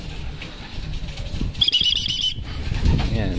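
A racing pigeon lands at its loft during a training race, with a brief burst of wing flapping midway amid background rustles and faint bird calls.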